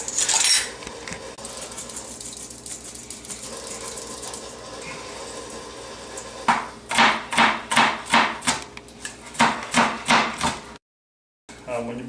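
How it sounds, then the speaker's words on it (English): A knife chopping ingredients for spicy tuna cakes on a board, a run of about a dozen sharp, evenly spaced chops in the second half after quieter kitchen handling, followed by a short silent gap. "And briefly you'll see me cutting everything else up."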